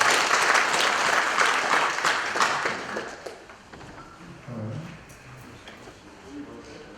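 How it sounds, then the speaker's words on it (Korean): Applause from the delegates at a union's regular delegates' convention, a loud dense burst of clapping that fades over several seconds into quieter room noise with scattered voices. "박수 한번 주시죠"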